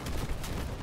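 Rockets fire from a combat vehicle in the Crossout battle game, a dense, continuous roaring burst with two brighter whooshing pulses, loud and close throughout the short moment.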